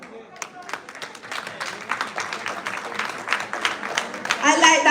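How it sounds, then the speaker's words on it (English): Audience clapping at a PNP political rally at Manchester High School, scattered claps that build in density and grow louder toward the end, with crowd noise underneath. "I like that you clapped."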